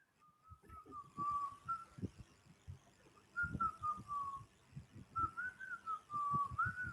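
Whistling from a nearby road drifts into a classroom during a maths lesson, a wavering tune in a few drawn-out phrases, moderately loud against a busy background of room noise and faint voices.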